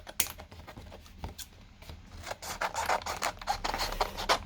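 Fine scissors snipping apart an electronic breadboard kit: a close series of small, crisp cuts and scratchy scrapes, irregular at first and then coming faster and denser.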